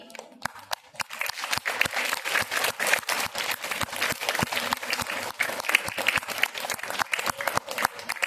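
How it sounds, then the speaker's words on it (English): Applause at a primary school prize distribution ceremony, a crowd clapping steadily and fairly loudly with sharp individual claps standing out, building after a quiet first second and continuing to the end. "Give them a huge round of applause of their teamwork and creativity"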